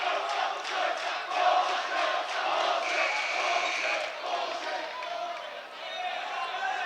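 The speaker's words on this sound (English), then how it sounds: "obviously the crowd isn't too happy with that call" A high school boys' varsity basketball crowd in a gym reacts to a charge call with a continuous murmur of raised voices and booing. Scattered shouts and ball bounces come through underneath.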